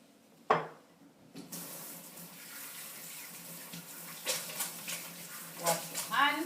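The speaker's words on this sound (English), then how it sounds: "Wash your hands." Tap water runs at a kitchen sink while hands are washed, a steady close splashing flow with a few louder splashes and soft clinks, and some quiet background sounds.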